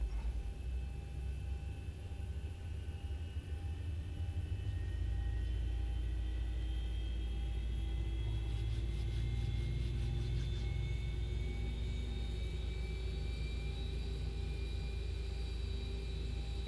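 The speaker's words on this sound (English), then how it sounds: "Okay, so engine number 2 now coming on." Boeing 737 engine number 2 spooling up in X-Plane 11 on the 737 Zibo mod, a steady rising turbine whine with climbing tones over a constant low rumble, continuous and fairly quiet.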